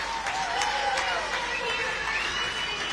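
Stadium crowd at Hive Stadium applauding and cheering at the end of a rugby match, a steady dense roar of clapping and voices with a commentator talking over it.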